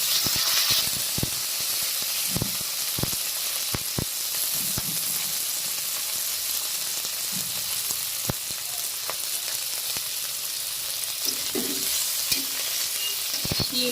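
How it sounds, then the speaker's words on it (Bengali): Beans and potatoes frying in a pan with a steady broad sizzle, broken by occasional scraping clicks of stirring, close and continuous without talk. "শিম আর আলু হালকা করে ভেজে নেব।"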